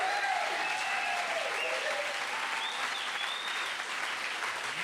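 A studio audience gives a warm, sustained round of applause for the band, an even wash of many hands clapping that holds steady throughout, with a few faint voices underneath.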